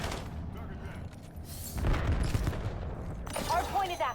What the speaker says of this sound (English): They're throwing a grenade.